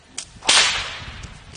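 A single sharp whip crack rings out loudly near the middle, preceded by a faint swish and followed by a fading room echo.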